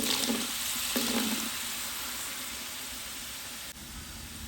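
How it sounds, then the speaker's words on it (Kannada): Ginger garlic paste fries in oil during a village-style biryani cook, a steady close sizzle with a couple of brief louder crackles early on. "ಶುಂಠಿ ಬೆಳ್ಳುಳ್ಳಿ ಪೇಸ್ಟ್ ಸ್ಮೆಲ್ ಹೋಗಬೇಕು ಅಂದರೆ ಈ ರೀತಿ ಎಣ್ಣೆಯಲ್ಲಿ ಫ್ರೈ ಮಾಡ್ಕೊಳ್ಳೋಣ"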